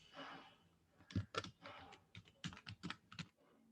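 Someone types on a computer keyboard in Excel, scattered close key clicks in short bursts with quiet gaps, fairly faint, with no talking.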